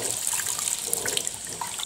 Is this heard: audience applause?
no